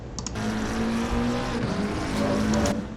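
Race car accelerating at the Hungaroring in the video game Assetto Corsa Competizione, a loud engine note rising in pitch through the gears, with one dip and recovery partway through and a strong, continuous presence from start to finish.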